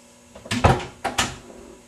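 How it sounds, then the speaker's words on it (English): Door pushed shut, two quick dull thuds with a light rattle about half a second apart, close and fairly loud in an otherwise quiet room. "You close the door,"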